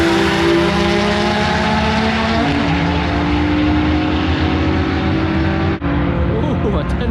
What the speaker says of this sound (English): Traction spin early on with the C8 right now.